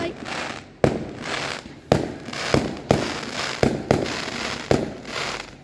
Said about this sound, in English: This is more fireworks.